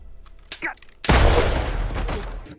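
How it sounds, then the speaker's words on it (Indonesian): A cowboy character fires a gun in an action film scene: a loud, booming shot bursts out after a brief voice, its rumbling echo lingering and fading over the next second and a half. "Dengan kejam Cowboy menembak Tiff."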